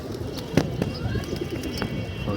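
Pigeons coo softly at a loft under a hot sun, with a few sharp clicks and flutters, faint background chatter and ambient noise around the birds.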